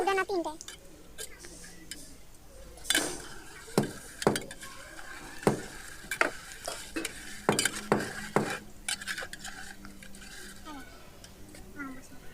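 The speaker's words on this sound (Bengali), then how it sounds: "তো আমি এখানে একটু ঢং করে নাড়ছি, দেখতেই পাচ্ছেন।" Spoon scraping and clinking against a pot while sweet milk pudding (dudh pitha) is stirred, in scattered sharp taps and scrapes over a low kitchen background, with a voice speaking at times.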